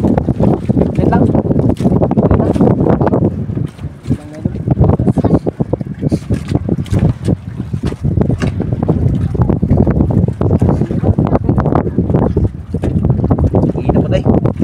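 Strong gusts buffet the microphone in heavy, roaring bursts with a brief lull partway through, while people talk under the noise.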